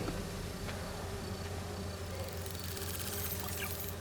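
Faint, steady insect-like buzzing from virtual bee wolves in the Marvel's Spider-Man 2 video game, a continuous low drone with soft background noise and no talking.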